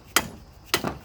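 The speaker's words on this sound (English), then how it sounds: "hold it up like this and then whack on the end here with the hammer" Two sharp metallic hammer strikes on the end of a tool to shock an engine top-end part loose, about half a second apart, close and distinct against a quiet background.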